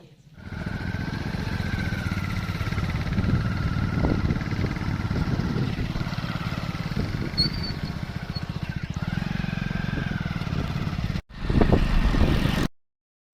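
A motorbike carrying two riders, father and child, heads out toward Gopnath and pulls onto the main road, its engine droning steadily and loud with wind rumble for about eleven seconds before a sudden cut and a brief louder burst.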